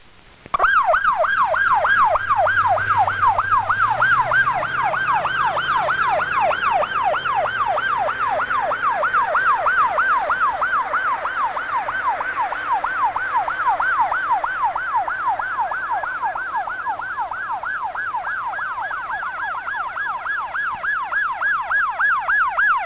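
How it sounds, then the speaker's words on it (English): An ambulance siren wails loudly and steadily in a rapid rising-and-falling yelp, continuous throughout with a low engine rumble beneath. "there is no delay in arrival of a second ambulance"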